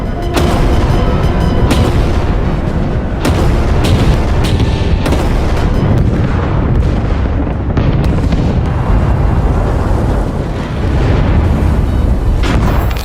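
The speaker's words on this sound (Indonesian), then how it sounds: "pasukan artileri Jerman mulai melakukan penyerangan bertubi-tubi" A continuous barrage of heavy booming artillery explosions, loud and dense, with deep rumbling blasts overlapping one after another throughout and no voices.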